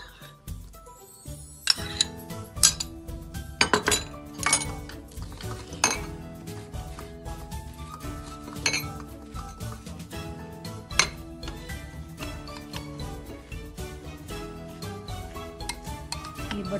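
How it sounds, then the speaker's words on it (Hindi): A spoon clinks and scrapes against a bowl in uneven bursts as butter or margarine is mixed and pressed into crushed digestive biscuits, close and fairly loud. "ये बटर अच्छी तरह मिक्स कर लें इसमें बिस्किट में, अच्छा सा इस तरह दबा दबा के"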